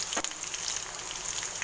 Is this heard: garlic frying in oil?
yes